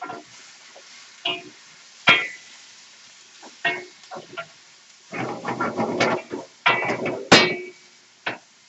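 Smoked sausage frying in a pan while being stirred, with sharp clanks and scrapes of a utensil against the pan in uneven bursts and a low sizzle beneath, no talking.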